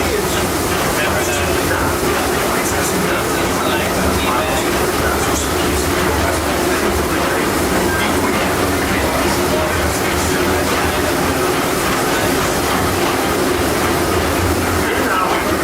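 Steady rumbling of the Disneyland Railroad train at night, a continuous broadband rattle of wheels on track, loud and unbroken throughout, with a voice faintly present underneath.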